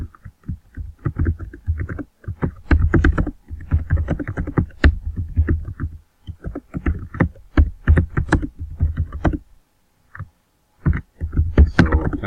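Someone types on a computer keyboard nearby: clusters of quick, uneven key clicks come in bursts with short pauses between them.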